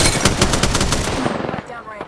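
Rapid automatic gunfire from Apex Legends rattles loud and close in a dense, steady burst for most of the clip, then breaks off into quieter scattered shots near the end.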